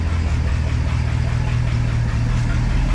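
An International pickup truck engine idles with glass pack exhaust, a steady low, loud rumble that holds even throughout, with no talking over it.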